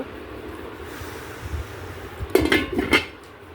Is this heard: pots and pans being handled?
yes